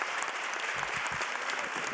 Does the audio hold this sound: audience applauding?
yes